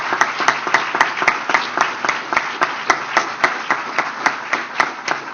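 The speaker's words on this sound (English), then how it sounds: "Give him a big round of applause." An audience in Philadelphia applauds scientist John Holdren with a steady run of loud, sharp claps, several hands close by standing out with a regular rhythmic beat over the general clapping.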